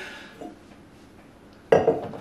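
Ice cubes made from frozen tea clinking into a glass, a sudden bright rattle of several hard clinks near the end after a quiet stretch, close and fairly loud.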